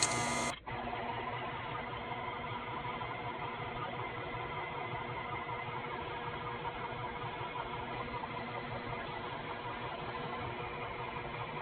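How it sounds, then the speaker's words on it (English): Stand mixer kneading hot roll dough, a steady mechanical whir with a rhythmic motor hum running continuously and close, without talk, after a brief louder start. "So I'm gonna let this continue to mix it."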